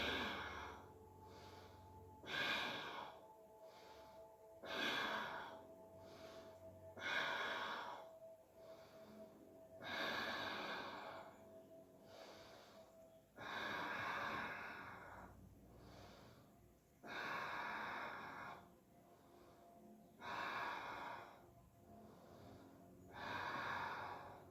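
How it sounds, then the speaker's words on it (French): Slow, deep Ujjayi yoga breathing with a constricted throat: about a dozen long, hissing breaths in a steady rhythm, each rising and fading, close and alone with no talk. "Faire la respiration Ujjayi"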